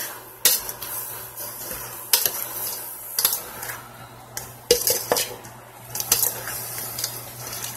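Pheasant meat being stirred in a cooking pot, metal utensil scraping and clanking against the pot in irregular strokes over a low steady hum, close and with no talking.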